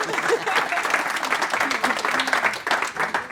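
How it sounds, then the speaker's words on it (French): Audience applause for Amandine at a tenth-anniversary party of a Breton association, dense steady clapping from a crowd with voices mixed in underneath throughout. "Donc un tonnerre d'applaudissements pour Amandine."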